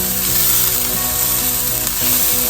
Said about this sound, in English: And saute that through until nice and fragrant.